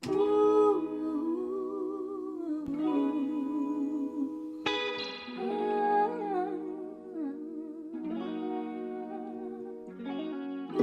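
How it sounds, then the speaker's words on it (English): Electric guitar chords drenched in heavy reverb and chorus, ringing and shimmering as they change slowly, with no voices. "I knew straight away I wanted to add a super reverbed guitar"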